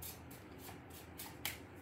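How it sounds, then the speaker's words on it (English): Quiet, close-up shuffling of tarot cards: soft riffling bursts repeat in an uneven rhythm, ending with a sharper snap of cards. "One more shuffle."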